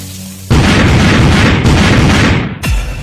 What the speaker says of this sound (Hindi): अभी भी कुछ पटाखे बचे हुए हैं